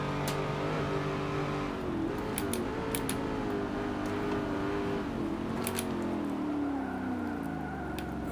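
Race car engine in Forza 7 during a V8X Ute race, a steady loud droning roar with rising and falling revs throughout, alone without speech.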